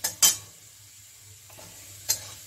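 Food frying in a pan during home cooking, with a few sharp stirring scrapes and clinks of a utensil against the pan over a faint, steady sizzle.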